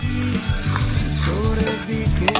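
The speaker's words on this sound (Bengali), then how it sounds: "দেখো মা নেড়ে আবারও ভালোভাবে কষিয়ে নিচ্ছে।" Raw jackfruit curry with Kashmiri red chili powder, cooked with mutton fat, is stirred and fried in a pan: close, continuous scraping and clinking of a spoon over a soft sizzle, with no talk.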